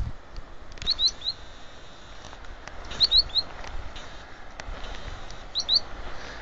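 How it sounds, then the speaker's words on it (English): Birds chirp outdoors in short bursts of high, quick tweets, three small clusters spaced a couple of seconds apart over a quiet background. "Yeah, birds. Birds are cool."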